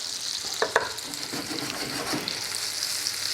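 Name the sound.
onions frying in sizzling butter in a pan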